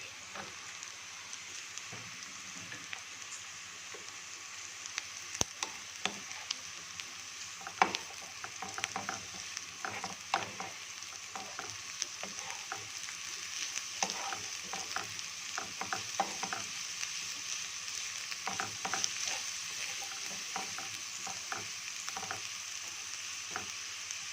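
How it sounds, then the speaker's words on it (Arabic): Carrots and peppers fry with softened onions in a pan, a soft, constant sizzle broken by frequent scraping and tapping as the vegetables are stirred, quiet and close. "بعد ما البصله دبلت خالص كده، هحط عليها بقى الجزر والفلفل."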